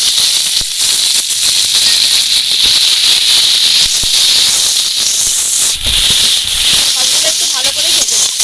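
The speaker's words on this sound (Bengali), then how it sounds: "সবগুলো একটু ভালো করে ভেজে নেব।" Chopped onion, slit green chilies and tomato frying together in hot oil, a loud continuous hiss and sizzle with occasional crackles and spoon scrapes.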